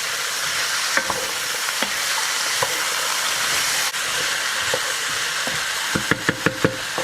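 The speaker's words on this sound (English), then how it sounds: "we're going to give that a sear for about a minute or two" Onions and leek sear in a hot pan at a German-themed barbecue, a constant loud sizzle with scattered scrapes and knocks of a spoon stirring, ending in a quick run of taps against the pan.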